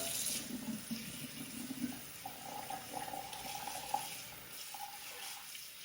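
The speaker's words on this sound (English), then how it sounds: "Now I'm gonna put some cold water in here" Cold tap water runs into a bowl in a kitchen while making jerk chicken, a faint steady hiss and splash with slight shifts in pitch as the bowl fills.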